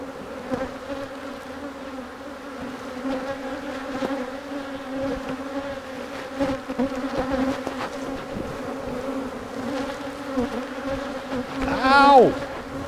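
Honey bees buzz steadily and densely around hive boxes during a split, a continuous close droning swarm with individual bees zipping past, and one loud bee swooping near at the end.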